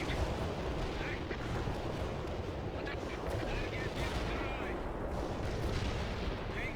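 Artillery strikes in the real-time strategy game World in Conflict, a dense, continuous rumble of shelling and gunfire that fills the whole stretch, with faint voices underneath.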